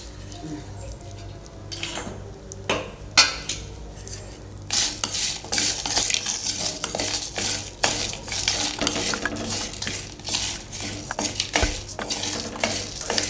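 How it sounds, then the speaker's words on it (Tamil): Cumin, asafoetida, dried chillies and dry ginger dry-roasting in a pan, with a loud, busy run of metal spoon scraping and clattering against the pan over a faint low sizzle. "லைட்டாக பொன்னிறமாக வறுத்து எடுத்துக்கலாங்க."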